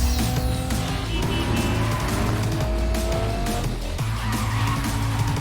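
Tires squeal and skid continuously over a loud engine roar from a 4-liter six-cylinder car in the Cyberpunk 2077 video game, with dense overlapping vehicle noise throughout.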